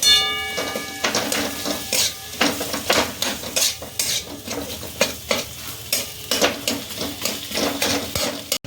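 Potatoes stirred in a pan for a potato chokha dinner, with rapid, continuous scraping and clattering strokes over a frying sizzle, close and fairly loud, with no talking.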